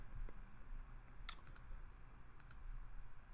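A few faint computer mouse clicks come through a quiet room with a low steady hum, one sharp click standing out, then a couple more.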